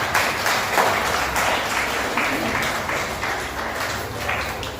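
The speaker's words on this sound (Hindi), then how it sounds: "इसके लिए जोरदार तालियां।" An audience at the opening ceremony of a public school in Jamshedpur gives a sustained round of clapping, dense and fairly even from start to finish, with no clear voices over it.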